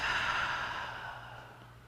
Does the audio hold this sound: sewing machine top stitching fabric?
no